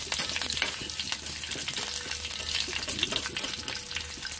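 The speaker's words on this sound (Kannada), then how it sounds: "ಈಗ ಅದೇ ಎಣ್ಣೆಗೆ ಸಾಸಿವೆ, ಕರಿಬೇವು, ಒಂದೇ ಒಂದು ಒಣ ಮೆಣಸಿನ್ಕಾಯಿ ಮುರಿದು ಹಾಕಿದ್ದೀನಿ." Mustard seeds, curry leaves and a broken dry red chilli frying in hot oil, a continuous close sizzle with light crackles and stirring scrapes, no voices.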